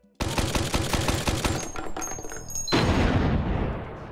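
About two seconds of rapid, rhythmic bursts like gunfire, then a sudden loud, broad blast with a lingering roar as a frag grenade goes off in the VR video game Hot Dogs, Horseshoes & Hand Grenades.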